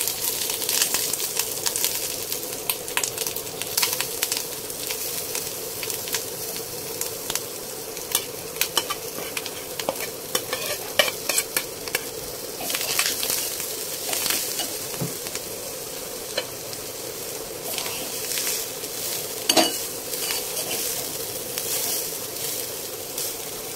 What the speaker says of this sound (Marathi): आपण नारळ किसून घेतलाय तो आता भाजून घेऊ